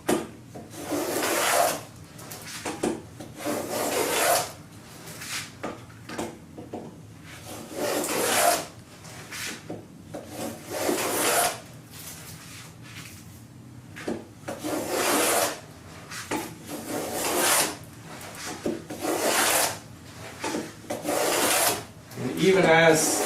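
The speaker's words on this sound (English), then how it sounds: "I can plow the groove with no problem at all." A plow plane cuts a groove in wood held in a vise, producing repeated rasping strokes roughly every one to two seconds, each a broad scraping whoosh, close and steady over about twenty seconds.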